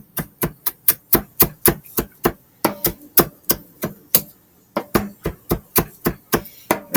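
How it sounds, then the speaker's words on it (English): A sharp knife chops fresh herbs roughly on a cutting board for a slow cooker chicken fricassee, giving a steady run of crisp, close knocks at about three per second with one brief pause. "I'm just going to do a really rough chop on this"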